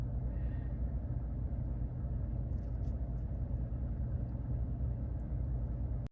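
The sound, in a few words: Chevrolet Silverado or GMC Sierra truck engine running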